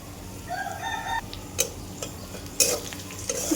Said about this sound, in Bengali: এটাকে একটু লাল লাল করে ভেজে নেব